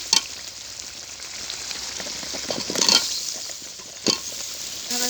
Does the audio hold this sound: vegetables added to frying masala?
yes